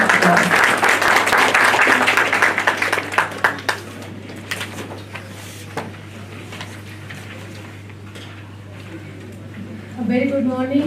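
Dense audience applause at a healthcare management seminar in a hotel hall, loud and sustained at first, then thinning into scattered claps and fading out before a speaker begins talking.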